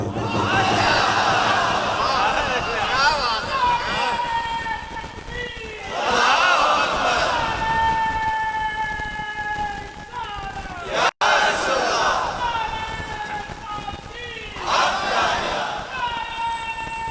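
A large crowd at a religious gathering honoring Karbala chants slogans in loud, surging unison bursts that swell and fade roughly every few seconds, close and filling the space.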